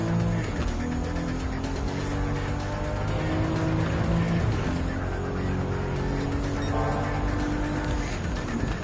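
Racing engine of a Fiat 500 in a one-make race in Gran Turismo 7, a steady buzzing drone with shifting pitch and occasional tire squeal, loud and continuous throughout.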